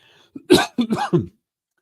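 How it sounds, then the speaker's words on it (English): One person coughs several times in a short burst, close to the microphone, with a lighter throat-clearing sound before the main coughs and silence afterward. "Got this cough."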